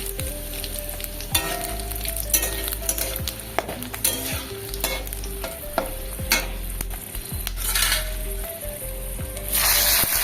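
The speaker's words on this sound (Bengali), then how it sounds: "সর্ষের তেল দিয়ে দিলাম, এখানে জিরে ফোড়ন দিয়েছি, তারপরে তেজপাতা, শুকনো লঙ্কা" Cumin seeds, bay leaf and dried red chillies sizzle in hot mustard oil in a pan for Bengali moong dal khichuri, a steady crackling fry punctuated by spoon stirs and occasional metal clinks.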